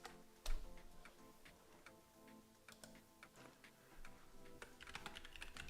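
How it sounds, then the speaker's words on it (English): Typing on a computer keyboard, with a quick, irregular run of close clicks and taps that sometimes bunch into bursts and then pause, heard alone with no talking. "Oh, so I'm typing it in the wrong place."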